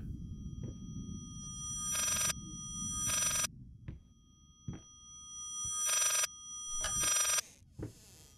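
A telephone rings in the Layers of Fear VR horror game, four bursts of bright electronic trilling spaced across the stretch, with a low rumbling bed and soft knocks between rings.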